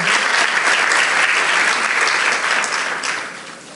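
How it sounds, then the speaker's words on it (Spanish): Church congregation giving a loud round of applause during a Spanish-language service, dense steady clapping that gradually fades toward the end. "denle ese fuerte aplauso a nuestro Salvador"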